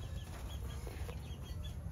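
A white Kelso rooster clucks in short, soft repeated calls close by, over a low steady background rumble.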